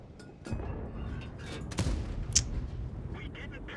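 Tank guns firing in World of Tanks during a battle with an M48 Patton, several booming shots and thuds at mid distance, one sharper crack near the middle, mixed with a voice talking.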